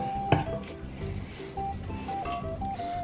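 Sliced carne asada meat for a Nicaraguan fritanga lands in a bowl with one sharp clatter, followed by softer shuffling and light clinks of kitchen dishes nearby.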